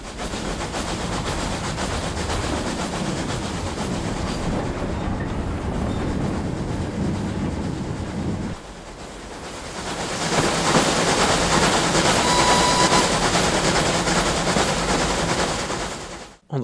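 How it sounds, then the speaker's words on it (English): LNER Y6 tram engine propelling wagons with a towed brake van in Train Simulator, a steady loud rolling rumble and clatter of rail running, dipping briefly mid-way before swelling again, with no talk. "using an LNER Y6 tram engine propelling some wagons and a GWR towed brake van"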